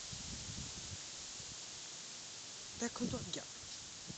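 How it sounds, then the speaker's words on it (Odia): Strong wind at a stated speed of 60–70 sweeps through trees near a flooding river and orchards, a steady loud rushing hiss throughout, with someone briefly speaking over it. "କିଭଳି ଭାବେ ପବନ ଦେଉଛି ଏହାର ବେଗ 60-70"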